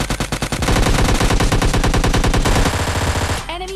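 Rapid machine-gun fire in a mobile battle-royale video game, a loud continuous burst of evenly spaced shots lasting about three seconds, followed by a brief ringing tail.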